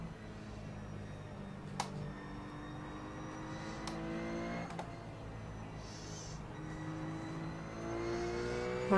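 A BMW race car in the iRacing game, racing at Spa, drones steadily with rising and falling engine pitch as it closes in, accompanied by a couple of sharp clicks and a continuous low rumble.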